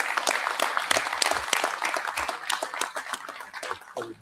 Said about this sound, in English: Let's do a little applause for Ted.